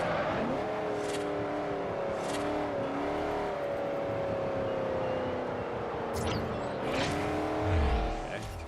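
A race car in Forza Horizon holds a steady engine drone as it coasts through a corner, the pitch dipping and climbing again with brief tire and gear noises, moderately loud.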